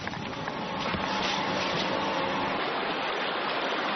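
The Buliu river, an underground river emerging above ground, flowing calmly, a steady full rushing wash of water close and continuous with no voices.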